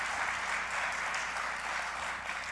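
An audience at a city address breaks into steady, sustained applause, a dense wash of many hands clapping that stays at an even level throughout.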